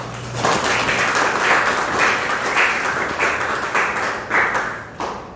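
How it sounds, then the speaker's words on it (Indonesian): Classroom applause for a student group after their presentation, a dense run of clapping that swells in a few pulses and tapers off over several seconds, with no speech. "Tepuk tangan dulu untuk kelompok."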